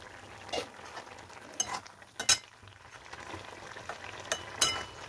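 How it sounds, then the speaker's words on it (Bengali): Potatoes cooking in a covered pan are stirred after the lid is lifted, giving a soft frying sizzle with several brief scraping and clinking strokes of a utensil against the pan, moderately close and without talk. "ঢাকাটা খুলে একটু নেড়ে দিলাম"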